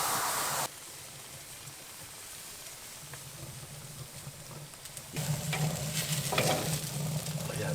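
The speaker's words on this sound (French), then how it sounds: "On va la mettre dans le fond du brasero. Là où c'est la zone" A bone-in rib steak, salted and peppered, sears in the hottest zone of a Mexican brasero grill, giving a low steady hiss that swells louder partway through, with light crackles and occasional scrapes, nearby and without voices.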